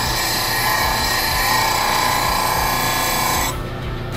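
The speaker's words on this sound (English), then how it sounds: "So we're going to turn the grinder on and I'll show you how to do that." Steady, continuous grinding hiss from a bench grinder sharpening a Boxmaster negative rake detail tool, loud and unbroken for several seconds before easing slightly at the end.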